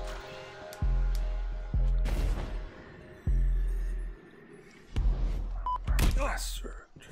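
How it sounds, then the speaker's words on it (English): Gunfire in the video game Destiny 2 comes as several heavy booming shots spaced a second or so apart, with lingering tonal game sounds and clatter under them; a voice talks intermittently. "Hear a lot of gunfire."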